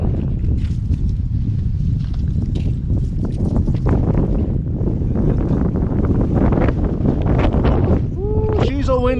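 Strong wind buffets the microphone in a constant low roar while fishing, with water splashing faintly underneath and a brief whistling tone near the end.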